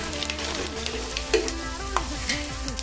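Mustard seeds, cumin and four dried red chillies fry in hot oil for a home-made tomato bath tempering. The sizzle is loud, close and continuous, with small crackling pops.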